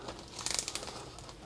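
Crinkling plastic from a zip bag of sugar as air is pressed out of it, a quick burst of close crackles and rustles, with no talking.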